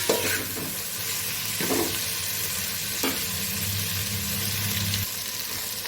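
Ginger paste with salt and turmeric stir-fried in a pan, a steady close sizzle with spatula scrapes recurring every second or so through the whole stretch, no voices.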